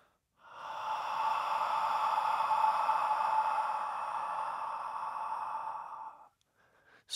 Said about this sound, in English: make the heart sound with the whisper